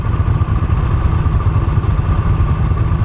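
Harley-Davidson motorcycles riding on a road, a steady, loud low engine rumble and exhaust drone that holds without a break, heard close by.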